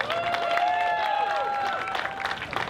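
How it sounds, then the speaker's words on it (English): Crowd applause and cheering at an outdoor Freedom March rally at Point Pleasant Beach, New Jersey, steady and fairly loud throughout with whistles or shouts rising above the clapping. "Let me get a big round of applause for everyone that came out."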